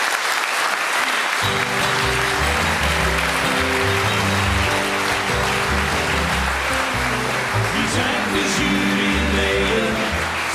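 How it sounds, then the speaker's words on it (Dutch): Sustained audience applause, dense and steady throughout, with music playing loudly beneath the clapping. "Maak een applaus voor Steven Sterk, Raymond de Jong en Saskia Bak."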